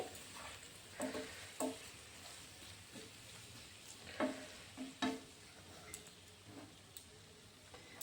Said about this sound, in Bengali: ধনেপাতাটা দিয়েও আমি একটু মিশিয়ে দিচ্ছি এগুলোকে।